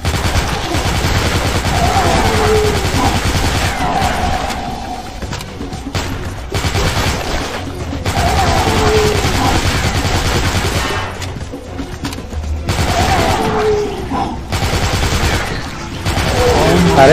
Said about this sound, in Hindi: बड़ी बंदूक निकालता हूँ